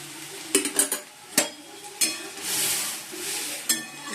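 Bay leaf, cumin and dry chillies sizzle in hot oil in a wok for dal tempering, a soft frying hiss broken by several sharp clinks and scrapes of a utensil against the pan, close and intermittent.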